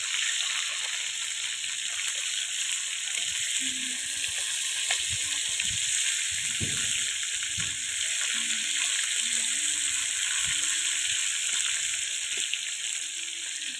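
A rohu fish tail fries in a pan with onion, green and dried chillies and garlic cloves, giving a steady, even sizzle throughout, with soft scraping bumps as the pieces are turned.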